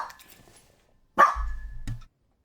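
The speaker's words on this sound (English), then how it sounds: "I think he's actually barking at the wind chimes" A dog barks at wind chimes, one soft early bark followed by a loud, sustained bark with low growly rumble and a final sharp yip, close by with no talking.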